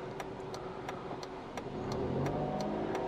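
A car engine revving up and accelerating to overtake a bus, heard from inside during a driving lesson, a steady close mid-pitched hum rising in the final second with faint regular ticking over it.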